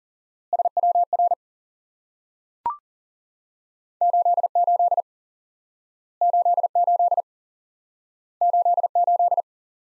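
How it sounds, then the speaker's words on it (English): Morse code CW tones sound clearly, a single element repeated in four short bursts of evenly spaced beeps, with a brief click in between, alone against silence. "CW."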